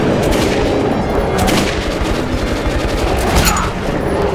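Bursts of gunfire in the video game Metro 2033 Redux, rapid repeated shots crackling densely over a busy game soundscape, loud and continuous.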